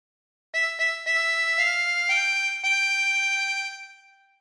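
Harmonica plays phrase 9 of the Star Spangled Banner, a short run of about six sustained reedy notes moving up and down, close and clear, with the last note held and fading.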